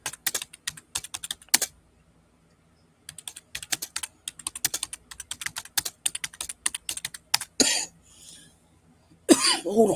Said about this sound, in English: You're catching my cough.